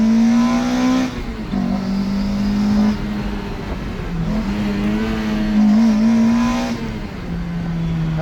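A Toyota MR-S with a swapped 2ZZ-GE engine and limited-slip differential accelerates in first gear, the engine revving loud and close with a rising drone, brief dips between pulls.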